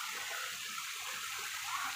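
A shower runs in a shower room, a steady hissing spray of water that stays even and close for the whole two seconds.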